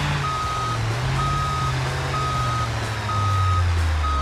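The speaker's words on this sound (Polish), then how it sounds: "I dodałem sobie podczas cofania pikacz." A truck in the BeamNG driving game backs up with its reversing beeper sounding steady, evenly spaced beeps over a loud, continuous engine rumble.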